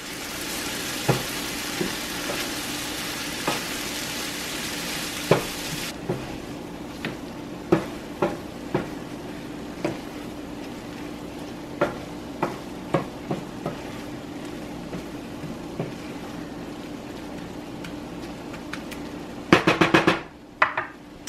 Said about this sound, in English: I'm going to keep simmering this until it's dried up, and just mix it every once in a while so it doesn't stick or burn